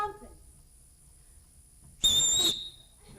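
A person gives a short, clear whistle as a signal, a single bright note of about half a second, after a quiet pause.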